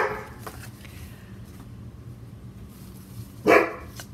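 A dog barks a few times at a distance over low background hum, with one louder, sharper bark near the end.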